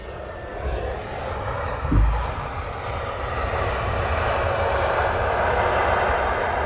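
Aircraft taxiing at Luton Airport, a steady distant jet engine roar that swells gradually and holds, with a brief dull thump early on, heard outdoors with no talking.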